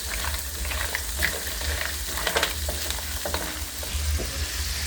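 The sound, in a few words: mussels sizzling in a frying pan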